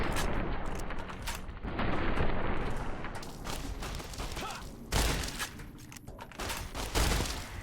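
Gunfire in the post-apocalyptic shooter Fallout: New Vegas, several sharp shots and bursts at uneven intervals with echoing, rumbling tails, fairly close and loud over a constant background din.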